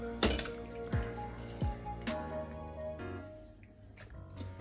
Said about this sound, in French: je vais égoutter mes morceaux de gorge, mes oignons